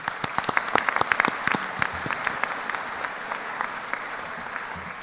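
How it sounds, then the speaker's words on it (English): Applause from the audience at a high school National Honor Society induction ceremony, brisk clapping that is dense at first and then thins and fades over a few seconds, with faint voices underneath. "please join me in giving them all a round of applause"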